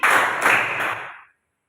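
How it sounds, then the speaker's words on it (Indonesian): Pupils in a classroom do a rhythmic color clapping game, giving three quick bursts of group claps in a short pattern that then stops into silence. "Tepuk warna merah, merah, kuning, kuning"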